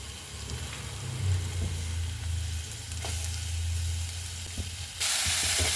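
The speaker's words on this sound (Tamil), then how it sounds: "கடாய் வச்சுட்டு கொஞ்சமாக எண்ணெய் விட்டுக்கோங்க வெங்காயம் போடணும்" Onion fries in a little oil in a kadai, making a steady, close sizzle with a low hum beneath it that brightens and grows louder toward the end.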